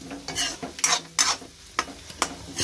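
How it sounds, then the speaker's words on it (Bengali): Black cumin, green chili, onion and garlic sizzle and fry in a pan, stirred with a utensil in repeated scraping bursts, close and fairly loud with no talking. "সেজন্য এখানে ওই কালো জিরে, কাঁচা লঙ্কা, পেঁয়াজ, রসুন এগুলো দিয়ে একটু ভাজছি"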